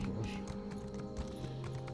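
A horse in The Elder Scrolls Online clip-clops along at a steady gait, the faint rhythmic hoofbeats running continuously beneath a low game background.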